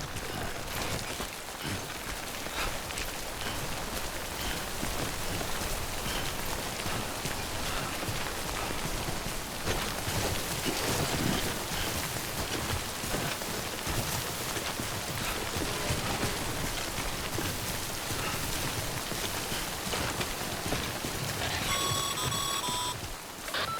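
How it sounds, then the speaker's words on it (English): Timefall rain in the video game Death Stranding, a steady dense hiss of falling rain that continues without a break throughout, with faint electronic beeping tones near the end. "Don't stay out in the rain any longer than you have to."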